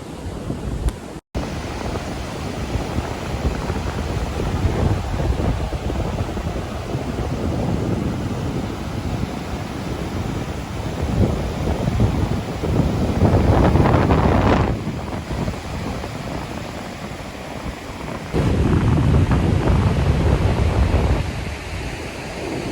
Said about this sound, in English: I'm going to walk a little bit further down to the shoreline, and these waves are crashing in.